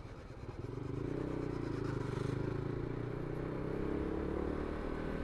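A motorcycle ridden along a bypass road in cold weather, with a steady, loud engine drone that settles in after a quieter first second and holds through the ride.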